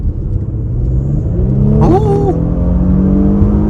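A 2023 Audi SQ5 accelerates hard, its engine revving up with a rising pitch over steady road rumble, close and loud, with a brief excited exclamation from a voice.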